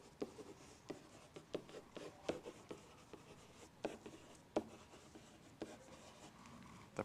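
Pen or pencil writing by hand on paper while a word problem is worked out, with close scratchy strokes and irregular taps spread across a few seconds.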